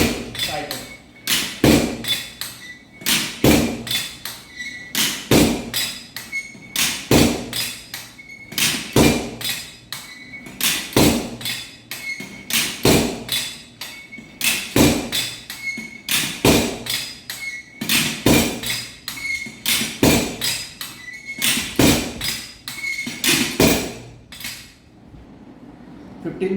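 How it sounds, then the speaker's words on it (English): Drop hammer of an aggregate impact value test apparatus striking aggregate in a steel cup, loud sharp metallic thuds repeating at a steady pace, about fifteen blows spaced a second or two apart, with no talking over them. "Fifteen blows are to be given to the material"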